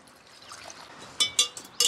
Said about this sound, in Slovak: Takže ja to rovno dám jednu malú lyžičku, zalejem to prevarenou vodou